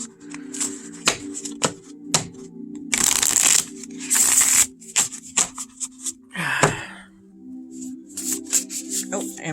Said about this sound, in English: I'm going to shuffle it here.